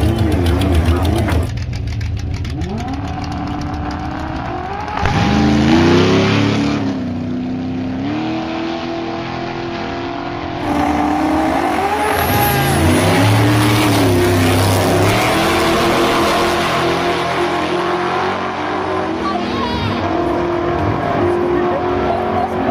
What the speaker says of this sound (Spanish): Una moto que me hice armada para irme a Termas ahora, para la semana de la moto